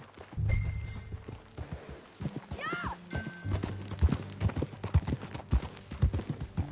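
Horse hooves clip-clop in an irregular rhythm in Red Dead Redemption 2, with a brief whinny and a few other game sound effects layered over it.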